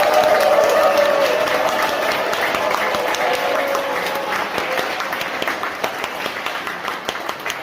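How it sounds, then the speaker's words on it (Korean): A Mass congregation in a church hall gives an archbishop a warm welcoming round of applause, loud sustained clapping that slowly eases off, with a voice briefly heard at the start. "뜨거운 박수 부탁드립니다"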